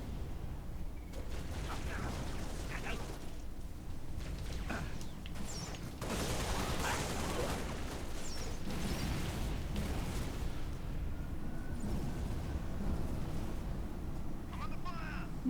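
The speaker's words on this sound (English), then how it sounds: "Laying down heavy fire." Heavy weapons fire in the game Halo: Reach, a sustained wash of blasts and mechanical clatter at moderate loudness, mixed under occasional voices.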